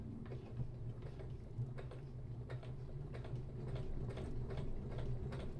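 A sewing machine stitches straight across a short piece of fabric, its needle ticking in a steady mechanical rhythm over a low motor hum, close and fairly quiet.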